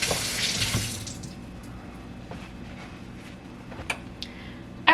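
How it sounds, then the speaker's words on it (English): Hands being washed under a running kitchen tap, a loud rush of water at first that eases into quieter trickling, with a few light clicks and knocks near the end. "And let's wash our hands."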